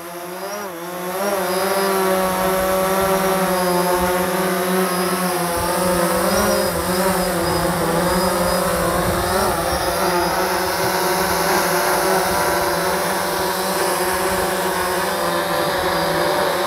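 A DJI Phantom 4 Pro drone flies and lands during a battery test, its rotors giving a steady, loud, high-pitched whine that holds continuously with slight shifts in pitch.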